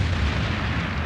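A deep, rumbling boom of artillery fire from a Japanese battleship in a wartime film scene, a single sustained low roar with no voices.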